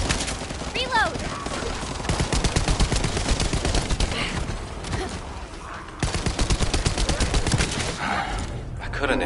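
Sustained automatic gunfire in The First Descendant on PS5 Pro, with rapid, loud, close bursts running almost without a break and a short pause midway, over background game effects.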